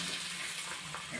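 An egg frying in oil in a pan for an egg roll gives a soft, steady hissing sizzle, faint and continuous over a brief moment with no voices.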